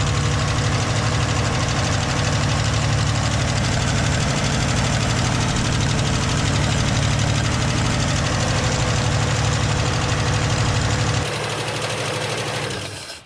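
A Holden HQ car engine idles steadily close by with a low, even rumble and a faint rhythmic knock, then drops in level near the end.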